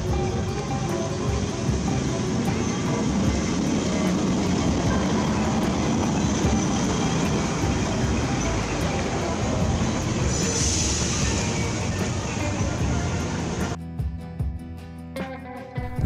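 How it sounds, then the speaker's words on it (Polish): A historic tram in Lisbon, Portugal rumbles past with steady rolling and rattling noise, close and loud, then fades into quieter street ambience near the end. "Przejazd historycznego tramwaju zawsze budzi zainteresowanie."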